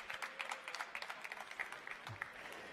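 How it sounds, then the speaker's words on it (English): Audience applause at a science talk greets the next speaker: steady, moderately loud clapping that runs the whole way through, with no voices over it. "please give a very loud applause for our next speaker, Dr. Roland Geraerts."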